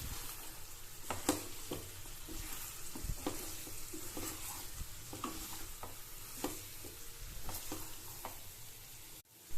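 Raw chicken being mixed with spice powder before frying makes soft, repeated squishing and stirring noises, quiet and close, in an irregular rhythm with no voices.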